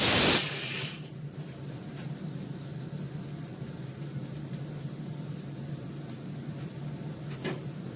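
A pressure cooker lets out a loud, brief hiss of steam at the very start, then falls away to a low, steady kitchen hum.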